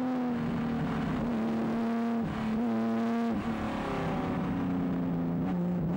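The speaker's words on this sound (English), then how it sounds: "Danny Sullivan continued to nail the 911 in a display of road driving prowess" Porsche 911 race car engine at the Tour Auto rally, a strong steady drone that shifts pitch as it changes gear and accelerates, heard close and loud with no talk throughout.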